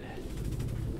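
Pigeons coo in a Detroit: Become Human game scene, a low soft burbling murmur held steadily through the short stretch at moderate loudness, with some mumbled voice mixed in.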